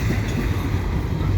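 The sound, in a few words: CP mixed freight train passing, headed west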